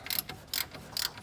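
Ratchet tightening the last bolts on a Paccar engine fan shroud during a fan clutch replacement, three quick bursts of rapid clicking separated by short pauses, close and fairly quiet.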